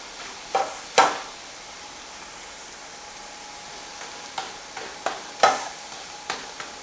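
A crepe sizzles in a pan as its sugar caramelizes, a soft steady frying hiss broken by several sharper scraping and tapping clicks of a utensil against the pan.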